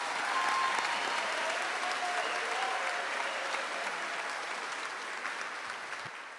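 Audience at a high school commencement ceremony applauding continuously, a dense wash of many hands clapping that holds steady for several seconds and slowly fades, heard at a moderate distance.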